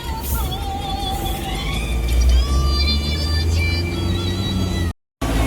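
Road traffic rumbles past continuously, a steady low drone with thin, wavering tonal whines drifting over it.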